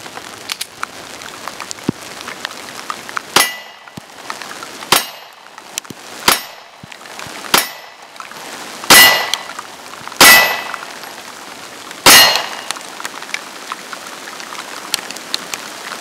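Single shots from a Springfield XD-S 9mm pistol ring out one at a time outdoors in steady rain. Each sharp crack is spaced a second or two apart, several are loud and near, and a soft patter of rain runs underneath.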